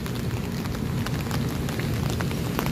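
Steady rain falls and patters beneath a bridge, a dense continuous hiss of drops on surfaces filling the whole stretch at an even level with no speech.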